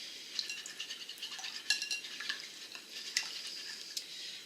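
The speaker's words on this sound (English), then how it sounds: "Let's just give that a really, really good mix together." Muffin batter with honey is stirred in a bowl, a quiet run of soft scraping and light clicking from the utensil against the bowl's side, close by and with no talking.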